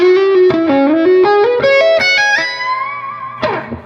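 An overdriven electric guitar plays a rapid ascending lick of picked notes that settles into a long held note before a final accent, loud and close with heavy distortion.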